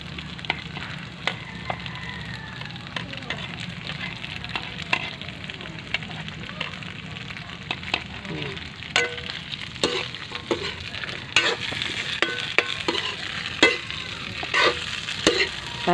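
Garlic frying for tofu in a pan, a continuous close sizzle broken by repeated clacks and scrapes of stirring throughout.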